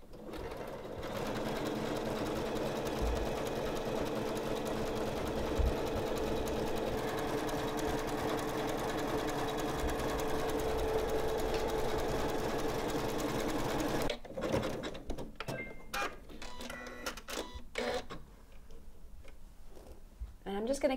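A Janome sewing machine runs steadily through rows of decorative stitching for about fourteen seconds, a close, even mechanical whir, then stops, leaving sparse clicks and handling noises.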